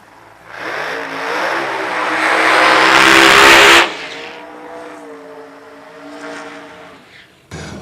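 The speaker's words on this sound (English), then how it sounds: "Chucky Olsch coming out of the burnout box with all the RPMs as Gorman's little turbo car just sounds so unassuming until it doesn't." A small turbocharged drag race car revs hard as it pulls out of the burnout box at a drag racing event, engine climbing loud and close to a peak, then dropping to a lower rumble and idle.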